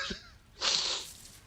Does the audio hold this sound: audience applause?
no